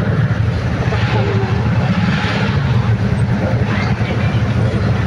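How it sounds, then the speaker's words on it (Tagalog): Airplane near NAIA airport in Manila, a loud continuous roaring engine drone heard from a road, with broadband rumble throughout and no clear gaps. "aeroplano."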